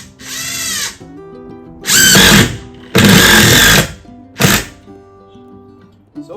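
Ryobi impact driver driving screws into a wall stud in four loud, close bursts of high whirring and hammering, separated by short pauses with quiet background noise.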